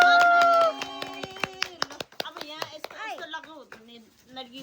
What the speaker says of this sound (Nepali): ताली बजाऊ सबैजना